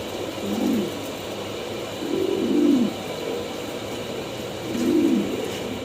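Pigeons cooing nearby, three soft low coo phrases spaced a couple of seconds apart over a faint steady background hum.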